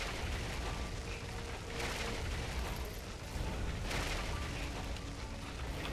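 Loud, continuous rumbling blasts from explosions in the video game FEAR 2, with broad noisy bursts swelling around the second and fourth seconds over a dense roar and no voices.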